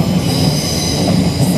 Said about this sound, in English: we're going to take the Thames Link train to Gatwick